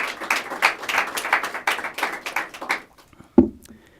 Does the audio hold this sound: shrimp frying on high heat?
no